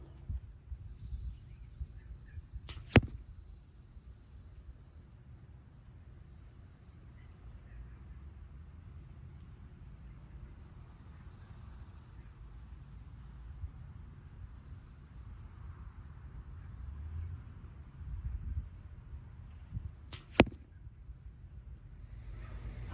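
Two sharp, isolated arrow releases from a bow during practice shots at about 30 yards outdoors, each a brief snap far apart in time over a steady low rumble of wind and ambient noise.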